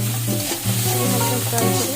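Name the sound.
rice lightly frying with salt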